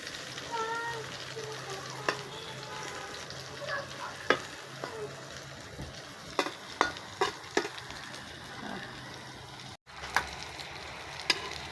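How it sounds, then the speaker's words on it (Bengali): Pointed gourd and potato pieces lightly frying in a pan, a steady soft sizzle with scattered clinks and scrapes as the pieces are stirred and turned, heard up close, with faint voices in the background. "পটল এবং আলু দুইটাই ভেজে নেব"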